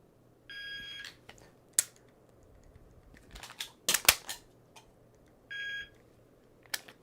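Shot timer sounding its start beep and then the par-time beep during a dry-fire pistol drill, two steady electronic tones a few seconds apart with clicks of handling and the action between them, close by.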